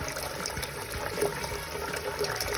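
Water pours into a pot for chicken and dumplings, a soft continuous trickling and splashing, close and fairly quiet.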